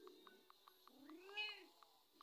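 A cartoon cat meows in the Talking Tom and Friends game, a short pitched meow over a run of soft evenly spaced ticks, quiet and close.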